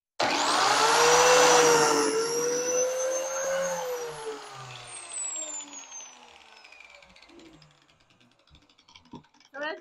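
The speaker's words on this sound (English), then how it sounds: "we're going to get the biscuit joiner out and start cutting" A biscuit joiner cuts into wooden boards for a bifold barn door, a loud close motor whine spinning up and then slowly winding down over several seconds, followed by faint clicks and handling noises.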